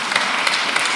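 A church congregation at a Kikuyu-language service applauds, a brief, steady patter of many hands clapping together.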